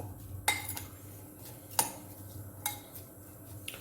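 Burger filling being mixed with about a tablespoon of olive oil in a bowl for a gulkand and samosa burger, a few distinct clinks and scrapes of a utensil against the dish over a faint background hum.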